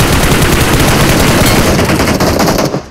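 Gunfire in the mobile battle royale game Battlegrounds Mobile India: a loud, dense stream of rapid automatic shots that holds almost without a break, fading out right at the end.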